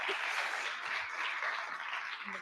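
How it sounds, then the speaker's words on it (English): An audience at a final event gives a round of applause for a prize winner, a short burst of scattered clapping, fairly faint and heard from a distance. "Another round of applause for SuprSketch."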